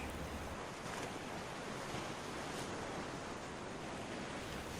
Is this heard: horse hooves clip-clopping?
no